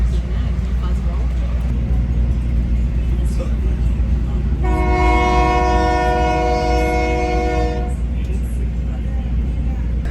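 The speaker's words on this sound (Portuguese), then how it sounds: "Do nada começou a dar ré aqui." A train on the railway line to Machu Picchu reverses during a shunting maneuver, its horn sounding a sustained multi-tone blast of about three seconds midway through over a steady low rumble of the moving cars.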